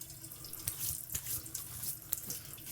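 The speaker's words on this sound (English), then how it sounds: "All right, let me rinse that off." Water from a running tap splashes into a sink as a razor is rinsed under it, a close, steady gush with small irregular clinks and drips.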